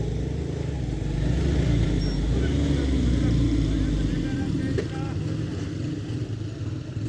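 A motorcycle climbs a steep wet hill road in rain at Kallar Syedan, its engine a steady low drone close by, with someone talking over it throughout.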